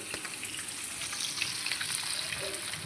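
Fish fries in hot oil, a brief burst of dense crackling sizzle with small bubbling pops, close and steady.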